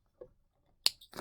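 Scissors snip thread once after stitching a fabric pleated mask, a short crisp cut close by following a faint soft rustle, in quiet surroundings.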